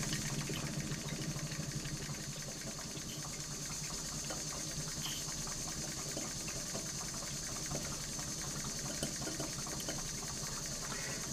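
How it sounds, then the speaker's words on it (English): A Stuart S50 model steam mill engine, fed by a 501 boiler, runs slowly and steadily, its exhaust gurgling into a chuff pot in a continuous close, even churn of hiss and bubbling. "Those gurgly noises you hear are the steam, the exhaust going into the chuff pot"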